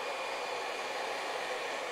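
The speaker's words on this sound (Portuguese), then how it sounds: "Porque eu molhei o cabelo e já vim com o secador em cima" Hair dryer blowing on a client's hair during a scissor haircut, a constant close airy roar held without a break and no talking over it.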